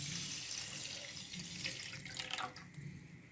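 Water from a glass is poured into a pan of sugar for custard halwa, a close, steady trickling rush that thins out near the end.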